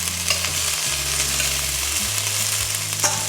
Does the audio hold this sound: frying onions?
yes